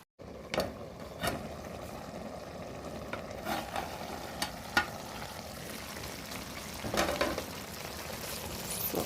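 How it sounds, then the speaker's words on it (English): Salt fish and cabbage stew cooking in a single pot gives a faint, steady simmering sizzle with scattered soft pops and clicks, quiet and close with no voices. "Our stew is here cooking well, as you can see."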